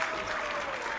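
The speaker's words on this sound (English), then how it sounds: "That's a standing and clapping student section." A home student section at a basketball game claps and cheers while standing, a dense and continuous wash of applause from a crowd at close range, steady throughout the brief moment.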